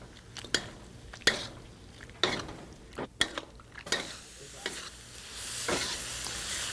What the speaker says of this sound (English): we're cooking our sauce down so that the beans become dry but coated with the